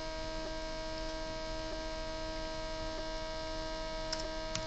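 A stepper motor runs steadily beside a strong mains hum, giving a continuous low electrical drone with faint regular ticks layered on top, close and quiet, with no voices.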